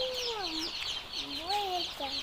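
A young chicken gives a few rising and falling squawking calls, close and clear, spaced across a couple of seconds over light background hiss.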